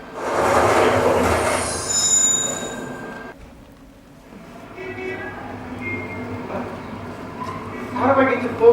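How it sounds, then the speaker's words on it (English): An arriving train rumbles close by while its wheels let out high squeals, then fades before a brief screech of wheels returns near the end. "Train coming."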